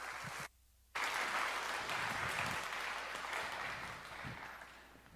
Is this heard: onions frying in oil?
no